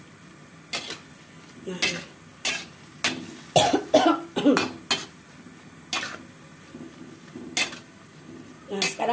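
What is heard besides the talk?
stirring stir-fried water spinach in a pan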